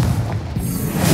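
Confringo explosive spell blast in Hogwarts Legacy, a single loud, dense boom with a rushing burst that fills the short moment, close and alone.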